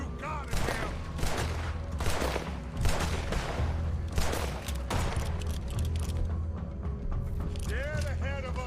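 Rapid bursts of gunfire in Red Dead Redemption 2 gameplay, repeated volleys over a steady low rumble, with voices talking between shots.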